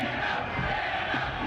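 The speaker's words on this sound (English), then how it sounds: "Not the crowd chanting Dan O behind you." A sports crowd chants a name in unison at a draft event, a steady loud roar of many voices filling the background throughout.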